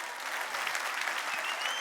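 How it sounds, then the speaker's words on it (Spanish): A church congregation applauds during a Sunday service, a dense, steady wash of clapping that fills the whole moment at moderate volume with no pause. "Denle un aplauso al rey"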